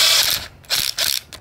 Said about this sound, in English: You want to torque this to make sure it goes on good.